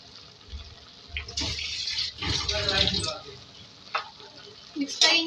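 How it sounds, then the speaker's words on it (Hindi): Chopped tomatoes and turai (ridge gourd) simmering and being stirred in water in a cooking pan, with soft bubbling, scraping and clinking of a spoon against the pan, close and moderately loud. "और इसको इसी पानी में कुक करेंगे।"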